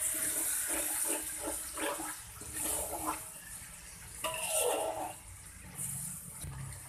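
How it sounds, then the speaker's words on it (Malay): A little water is poured into a pan of bee hoon mixture with shiitake mushrooms for soy-sauce fried bee hoon, making a close, steady splashing hiss that swells and fades, followed by wet stirring. "kita masukkan lagi sedikit air dan gaul rata."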